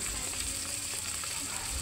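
Ground spices, ginger and garlic paste with bay leaves frying in hot oil for a duck curry, a constant close hissing sizzle with no break.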